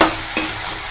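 Mango thokku sautés in a pan with a loud sizzle at first and a quick stirring scrape partway through, then a steady hiss, close by and free of speech.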